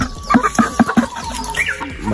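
A rooster in a Kenyan village clucks in four quick, close, evenly spaced pulses, followed by a softer, rising call and faint background noise.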